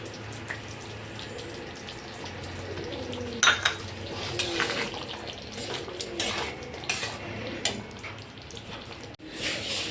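A ladle stirs rajma curry with kasuri methi in a pot, with clinking metal scrapes and knocks against the vessel over a wet, bubbling background.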